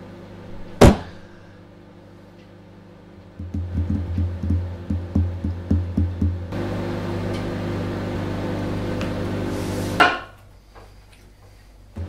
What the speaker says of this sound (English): So, in the microwave she goes. 1 minute 30.